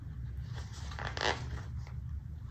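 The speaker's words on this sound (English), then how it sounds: "feed our zipper onto our zipper pull, making sure it's nice and even on the ends" A zipper pull is fed onto a bag zipper, giving soft, faint scraping and zipping sounds with a small burst near the middle, close up and alone.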